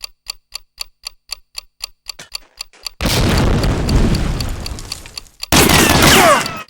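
In Medal of Honor Allied Assault, a planted bomb ticks steadily about a dozen times, then detonates in a loud rumbling blast that slowly fades before a second sharp explosion hits.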